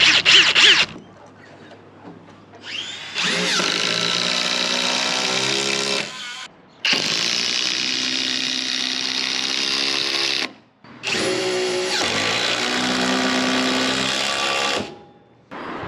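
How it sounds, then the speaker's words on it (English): Cordless AEG impact driver sinking screws into roof battens, three long whirring bursts of several seconds each with brief pauses between, loud and close with no talk. "we're gonna start screwing off all the roof battens"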